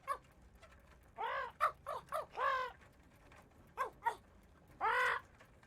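A bird squawks in a children's picture-book story about a naughty parrot stealing breakfast, with six or seven harsh, crow-like calls, some in quick bursts and one longer final squawk, loud and close over a quiet background.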